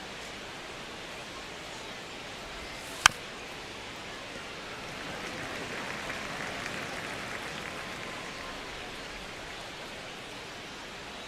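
Stadium crowd at Dodger Stadium in MLB The Show 26, a steady broad wash of distant crowd murmur with one sharp crack near the start and a slight swell midway.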